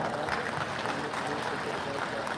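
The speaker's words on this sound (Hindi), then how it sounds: "आप लोग ताली बजा के इस बात को समर्थन करें जो बनता है" An audience at a large Sarna Dharma Code rally on Morabadi ground in Ranchi claps steadily, a dense, even wash of many hands throughout.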